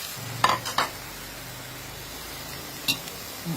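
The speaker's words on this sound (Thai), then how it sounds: "จะกรอบๆแล้วเราจะไปผัด" Lotus stems stir-fry in a pan with a soft, steady sizzle, punctuated by a few close scrapes and clinks of the utensil against the pan.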